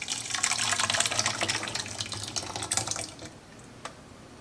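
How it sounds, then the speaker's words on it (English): A blended homemade ketchup mixture pours into a stock pot as a close, splashy liquid stream for about three seconds, then tapers off into a quiet kitchen. "I'm going to pour it into the stock pot"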